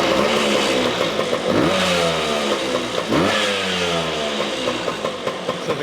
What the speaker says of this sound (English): So the classic 2-stroke sound